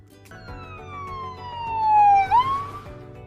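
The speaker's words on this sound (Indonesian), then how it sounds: "Ya, ada ambulans." Ambulance siren wailing loud and close, its tone sweeping steadily downward before a brief dip and recovery near the end, with a vehicle engine rumbling underneath.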